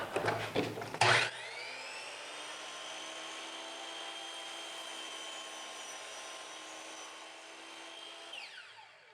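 A power saw cuts through a faux stone wall panel held against a fence: a brief startup burst, then a steady, fairly loud whining cut that holds for several seconds before winding down.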